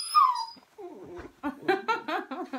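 A dog gives a high, drawn-out whimper up close, followed by a run of short, whiny yips and whines in quick succession.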